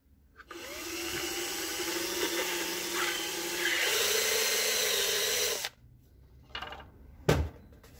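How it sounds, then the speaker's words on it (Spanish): A power tool bores a hole in a plastic hair-cream jar: a loud, steady whining drone for about five seconds, then stops, followed by a few scattered knocks and clatters. "tomo el pote de crema para el cabello y le voy a hacer un agujero acá"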